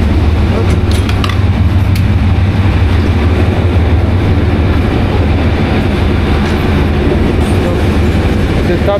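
Passenger train running from Thailand to Malaysia near the border checkpoint, a loud continuous rumble of wheels on rails with occasional clicks, with people's voices mixed into the background.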